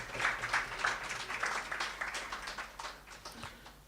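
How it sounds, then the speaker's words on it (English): A track and field meet crowd claps through a steady round of applause, moderately loud and sustained, slowly thinning out toward the end. "Can you give him a round of applause,"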